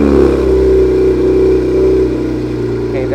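A Cadillac engine runs with a mellow, steady exhaust rumble through both sets of exhausts, close and continuous with a slight swell in revs, no talk over it.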